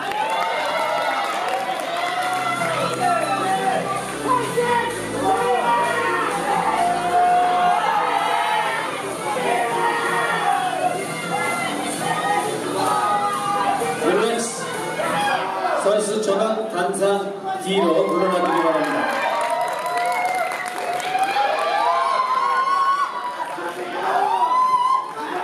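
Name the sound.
audience applause and cheering at bodybuilding contest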